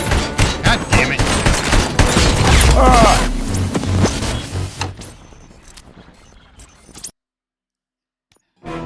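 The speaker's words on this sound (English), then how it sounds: "He doesn't stop firing." Sustained gunfire in the RoboCop: Rogue City video game, loud rapid bursts that keep going for about five seconds before thinning into scattered quieter sounds and then near silence.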